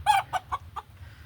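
Chickens in a small backyard coop clucking close by. There are about four short, sharp clucks in quick succession, then a low hum carries on alone.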